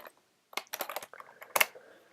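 Keys on a computer keyboard are tapped in short, quiet clusters while coding in a PHP editor. The clicks are close and uneven, with brief pauses between them and no speech.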